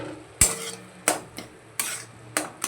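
Spoonfuls of ground mustard being stirred into bitter gourd leaf chorchori in a pot: four separate sharp metallic scrapes and clinks of a spoon against the pot, close and clear, with quiet pauses between them.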